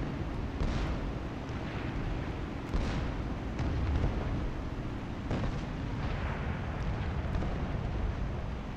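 Bombs dropped from a He-111 bomber in the War Thunder combat game explode as a continuous loud rumble, with deep booming blasts rolling one into the next across the whole stretch over steady engine drone.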